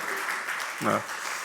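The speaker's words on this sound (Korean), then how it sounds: "우리 박수로 환영하겠습니다." Steady applause from a church congregation welcoming someone back during a Sunday worship service, continuous clapping throughout with a brief voice cutting in midway.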